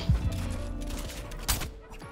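Rapid bursts of gunfire from a Fortnite Chapter 3 arena match, dense overlapping shots with a sharp louder crack near the middle, set against game music and effects with faint voices underneath.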